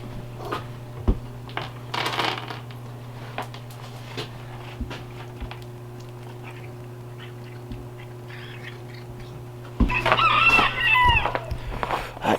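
Chickens cluck and a rooster crows on an off-grid property while grain is scattered, with scattered pecking and shuffling sounds, a burst of louder clucking near the end over a low steady hum.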